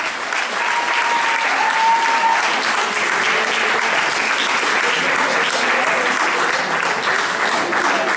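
Steady, dense applause from an audience at the awards ceremony of the Sarandev pop-rock competition, sustained and even throughout with no pauses.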